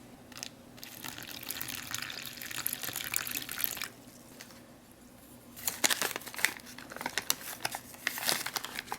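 Cold water poured into the cereal pouch of a 2016 Canadian IMP ration, with crinkling plastic packaging and bursts of running liquid that pause briefly midway, then return with sharper crackles.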